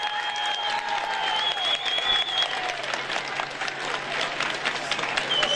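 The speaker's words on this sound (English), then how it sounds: "Listen to this crowd." Roadside crowd at a 2014 Giro d'Italia stage 13 roars, cheers and applauds without a break as the riders pass, with whistles cutting through the dense wall of noise.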